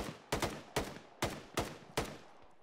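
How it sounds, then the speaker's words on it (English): Six evenly spaced gunshots ring out in ArmA, a military game, each a sharp crack with a short echoing tail, at moderate distance and with no talk over them. "Who is that up top shooting?"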